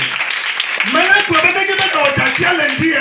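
A church congregation claps and acclaims God during a sermon, with steady close clapping under loud raised voices and calls.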